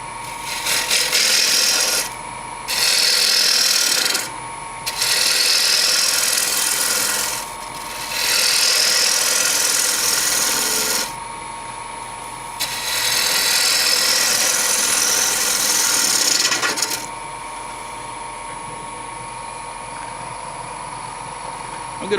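Wood lathe spinning at 1200 RPM while turning a natural edge bowl, with loud rasping cuts of the tool on the wood in several long bursts separated by quieter stretches of motor hum.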